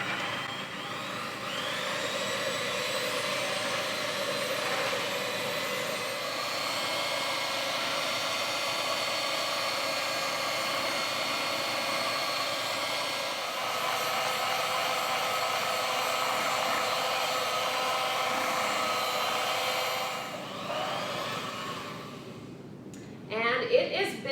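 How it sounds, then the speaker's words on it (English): Stand mixer whipping a sugar mixture into marshmallow cream for mallow squares, a loud, steady, continuous whirring motor drone that runs unbroken for about twenty seconds before slowing, with a few clinks at the end. "if you have a stand mixer, this might be a good time to use it because we're going to mix for 10 minutes or more"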